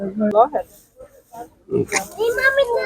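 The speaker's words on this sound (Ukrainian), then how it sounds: "Отакі поросятки." Seven-week-old piglets for sale at a livestock market in Prykarpattia, Ukraine, grunt and oink close by, mixed in with people talking.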